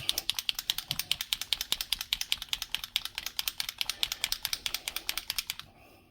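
A bottle of graphite gray metallic paint shaken hard, its mixing ball rattling in a fast, steady run of sharp clicks for about six seconds before stopping abruptly.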